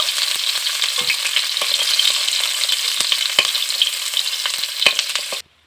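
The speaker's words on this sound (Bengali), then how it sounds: "ফুলকপিটাকে কিন্তু আমি হালকা লালচে রং করে ভেজে নিয়েছি।" Cauliflower pieces fry in hot oil with a bright, continuous crackling sizzle and faint stirring scrapes, close up, before cutting off abruptly near the end.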